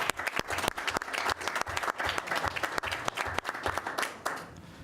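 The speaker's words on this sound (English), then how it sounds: "if we could all give Lori an applause and thank her for her service" Audience at a town council meeting applauding, with many individual claps standing out sharply within a lively, uneven round of clapping that tapers off at the end.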